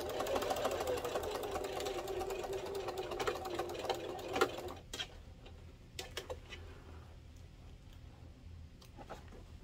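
A sewing machine stitches a fabric car trash can bag, a fast steady mechanical whir for several seconds that stops, followed by a few scattered clicks and handling knocks in a quiet room.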